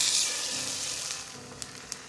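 Shiitake mushrooms with stems trimmed hit a hot oiled pan, giving a steady close sizzle that fades slightly, with two small sharp clicks near the end.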